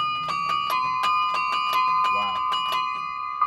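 Carillon bells played by hand and foot pedals, a run of struck bell tones with long ringing overtones, notes sounding roughly every third of a second, with a brief voice partway through.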